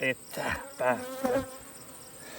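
Honeybees buzz around a brood frame pulled from a hive holding drones, a close, wavering drone under someone speaking French.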